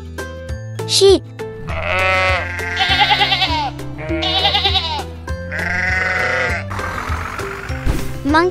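Repeated quavering sheep bleats follow one another over soft background music, clear and close.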